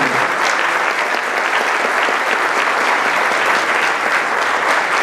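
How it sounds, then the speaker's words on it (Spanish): Loud, sustained applause at a national constitutional law congress in Mexico, greeting a guest speaker: a thick, continuous wash of many hands clapping close by, with no break for the whole stretch. "Le damos un fuerte aplauso, por favor"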